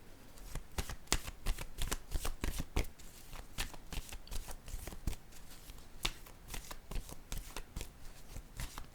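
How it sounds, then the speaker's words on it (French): Playing cards are laid down and shuffled on a table, with rapid, crisp slaps and riffles arriving in dense bursts close up throughout, with no talk. "Je vais déposer une autre carte ici."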